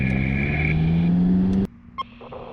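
McLaren cars roll in second gear before a drag race, a loud, steady engine drone with a slowly rising tone that cuts off abruptly, leaving a quieter idle and a brief click.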